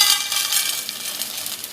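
Edible gum frying in a spoonful of ghee, a faint, soft, close crackling sizzle with light scattered pops over a quiet background.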